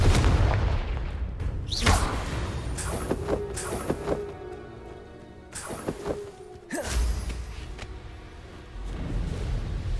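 Confringo spell blasts in Hogwarts Legacy land as repeated heavy booms and thuds over a dense battle mix, with sharp impacts spaced through the fight.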